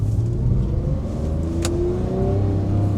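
A Porsche drives off with a close, continuous engine rumble that rises slightly in pitch as it accelerates, steady and loud with no talking.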